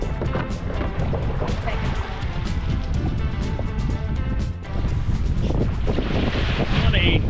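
Strong wind gusting across a boat at an overcast anchorage in Exuma, buffeting the microphone with loud continuous roar and rustling, water slapping faintly beneath, a voice talking over it.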